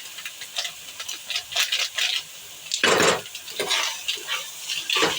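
Spices being stirred in a cooking pot, with repeated scraping and clinking strokes of a utensil against the pot, close and fairly loud, with a soft sizzle underneath.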